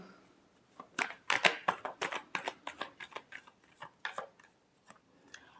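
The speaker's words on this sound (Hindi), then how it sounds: "last shuffle" A deck of tarot cards is shuffled by hand, a close rapid series of papery riffling bursts and flicks that slow and thin out toward the end.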